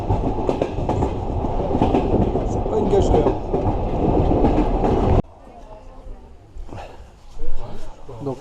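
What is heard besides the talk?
slow passenger train running on rails, Armenia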